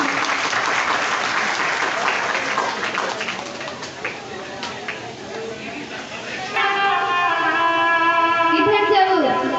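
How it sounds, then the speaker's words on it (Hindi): Crowd applause at a Shrimad Bhagavat Katha gathering welcoming Narendra Modi, dense and loud for several seconds before giving way to sustained tonal music or horn-like tones. "सभी लोग जोरदार तालियों का स्वागत करेंगे उनका"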